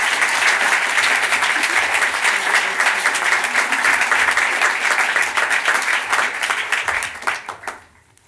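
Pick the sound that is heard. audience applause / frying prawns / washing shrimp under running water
audience applause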